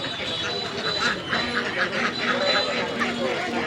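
Ducks at a busy market quack repeatedly in a loose, uneven series, close by, over a constant crowd murmur.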